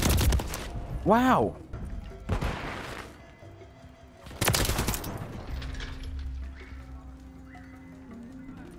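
Gunfire in the Call of Duty: Modern Warfare III beta, loud broadband bursts near the start and again around the middle, with a horse-like whinny sound and a brief exclamation from a player amid ongoing game ambience.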